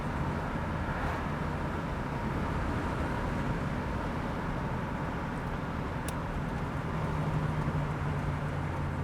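A 1973 Chevrolet Corvette drives along, its engine a steady broadband rumble mixed with road and wind noise, heard from inside at moderate level without clear gear-change breaks.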